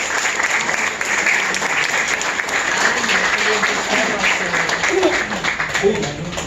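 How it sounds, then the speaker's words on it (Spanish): Audience applause for a guest introduced at a historical talk about the Virgin of Socorro, a steady, dense wash of many hands clapping throughout, close and fairly loud. "yo pido un fuerte aplauso para Iván Larriba Velasco"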